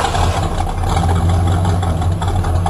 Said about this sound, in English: Let's hear what GTO ram air engine sounds.